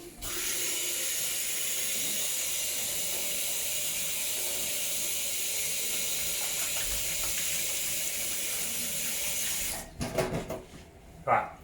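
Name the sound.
washing hands under running tap water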